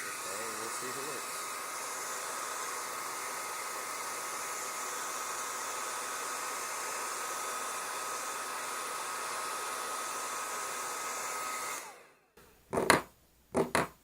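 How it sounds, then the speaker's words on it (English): A hair dryer on high blows with a steady, loud whooshing roar for about twelve seconds, then cuts off, followed by a few brief knocks and clicks. "hairdryer says low or high, so we'll turn it up to high."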